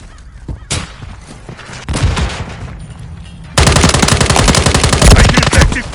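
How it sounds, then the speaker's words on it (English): Machine gun fire in Modern Warfare 3 multiplayer: scattered shots at first, then a loud, sustained rapid burst close by through the second half. "Taking effective fire!"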